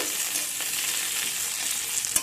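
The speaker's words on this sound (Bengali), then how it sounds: "রসুন দুটো কাঁচা লঙ্কা এর সাথে আমি ভাজা করে নেব" Garlic cloves and green chillies frying in a pan, a dense close sizzle that holds steady throughout with a faint stirring clatter near the end.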